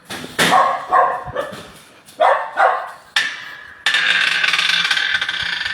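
Several working dogs bark in loud, separate bursts on an obstacle training course, followed by a sustained high-pitched whine or yelp continuing to the end.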